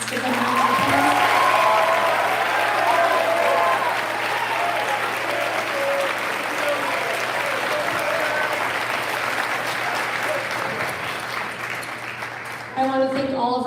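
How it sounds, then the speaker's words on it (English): A school band concert audience applauds at length, a steady wash of many hands clapping with murmured voices underneath, tapering slightly before someone begins talking near the end. "Let's give them a round of applause."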